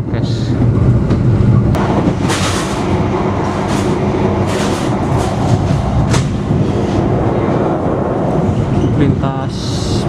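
The Argo Lawu passenger train runs on rails between Yogyakarta and Jakarta, a loud continuous rumble and roar heard from on board, with intermittent clacks and rattles over the track.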